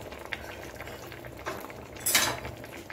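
Kewra water and rose water stirred into chicken tehari in a pot, soft spoon scrapes and clinks over a low bubbling simmer, with a brighter clatter near the end.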